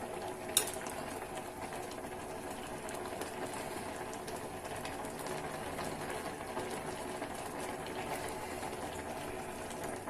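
Gongura leaves simmering in a pan, a low, steady bubbling hiss that runs unbroken and fairly quiet, with one brief clink near the start and no voices.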